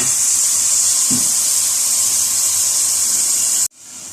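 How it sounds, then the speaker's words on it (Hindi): Water is poured into minced qeema frying in a pan, producing a loud, even hiss of sizzling that holds steady for several seconds and then cuts off abruptly. "थोड़ा सा पानी डालने लगी हूँ मैं ताकि ये आवाज़ ज़रा कम हो जाए थोड़ी सी"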